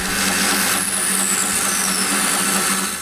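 A power drill bores into a walnut beading tool in a woodworking shop, a loud continuous whirring grind that holds steady for about three seconds with slight shifts in pitch as the bit works through the wood.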